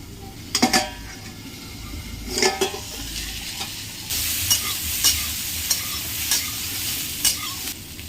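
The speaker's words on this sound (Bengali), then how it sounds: "একটু হলুদ দিয়ে দেবো ঢেকে ঢেকে কিছুক্ষণ কষিয়ে নেব দেখুন বন্ধুরা একটু নাড়িয়ে নেবো এবারে" Cauliflower and potato curry with turmeric is stirred in a hot pan, village style. A spoon clatters against the metal in a few sharp knocks over a constant low sizzle, and the frying grows louder partway through.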